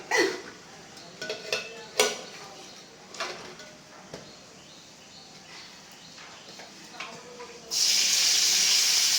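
Leafy greens being washed in a kitchen: first scattered knocks and clatters of dishes, then a tap turns on and a loud, steady rush of running water takes over near the end.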